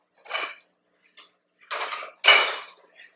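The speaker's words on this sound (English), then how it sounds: "So I'm gonna move this lid over there." A metal pot lid is lifted and moved on a kitchen stove, giving three distinct clanks, with the last the loudest, plus a couple of light taps, all close and without talk.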